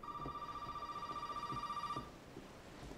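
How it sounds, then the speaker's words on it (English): Faint trilling electronic ring of a telephone in the Resident Evil 7 game, steady for about two seconds then stopping, with soft low thumps underneath and no talk. "Well, the phone's going."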